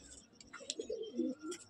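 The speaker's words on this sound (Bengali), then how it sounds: "এটা মাদি পায়রা, দেখুন পায়রাটার কোয়ালিটি দেখুন" A female Madrasi pigeon coos close by in a loft, a few soft, low, rolling phrases rising and falling over quiet background.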